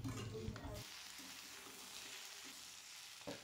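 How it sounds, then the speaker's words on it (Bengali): Eggplant pieces being stirred together with cauliflower and other vegetables in a pan, giving a soft scraping and sizzle that fades to a low, steady fry after an initial louder stir. "বেগুনগুলোকে দিয়েও 5 মিনিটের মতো আমি সবজির সাথে মিশিয়ে নেব।"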